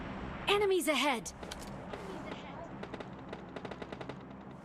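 Gunfire in the PUBG Mobile Lite battle royale game, a rapid series of sharp automatic shots crackling in quick bursts, after a brief shouted voice line at the start.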